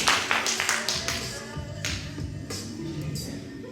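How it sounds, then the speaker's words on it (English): Scattered clapping from an audience at a poetry slam, a burst of claps at the start then a few uneven stragglers, with murmuring voices underneath. "If you happen to be here, clap once."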